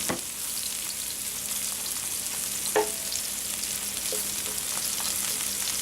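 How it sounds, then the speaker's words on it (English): Mushrooms sautéing in olive oil in a hot skillet give a steady, close sizzle and crackle, with a few sharper pops and light stirring scrapes, no talking. "I have the skillet hot again, so I'm going to add the mushroom"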